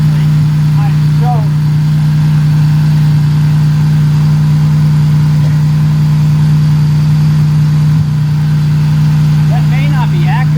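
A Honda EG Civic drag car fitted with a J37 V6 idles steadily and loudly up close, a constant low hum with a few faint background noises over it.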